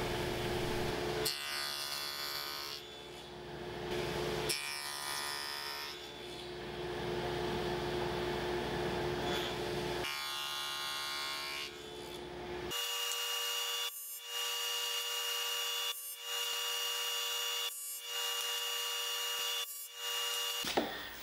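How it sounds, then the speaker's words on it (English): Test cuts through scrap lumber with a saw while building a custom wine box: several loud, close cutting passes with short pauses between them, and a steadier, more tonal whine in the later cuts, with no talking. "So I'm just doing some test cuts, making sure everything fits together nice and tight."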